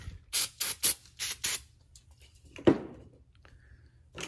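Several short hissing bursts of aerosol cleaner sprayed onto Cub Cadet 129 carburetor parts, about six quick squirts in a row, then a clatter of a part set down and quiet.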